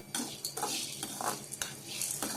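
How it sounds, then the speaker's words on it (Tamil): Chana dal roasting dry in a pan for homemade murukku flour, stirred with a spoon in quick scraping strokes with a light sizzle, close and fairly loud, no talking. "அடுத்ததா கடலைப்பருப்பை நம்ம வறுத்துக்கலாம்"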